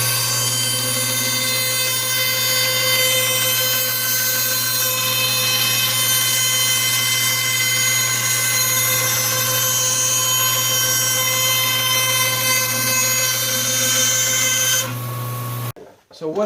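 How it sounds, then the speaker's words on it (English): A bandsaw cuts an arc in wood for a DIY goat milking stand, making a loud, steady whine with a strong motor hum. It runs continuously, then cuts off abruptly near the end. "I have an arc to cut out over there, so I'll go with the bandsaw and cut that out"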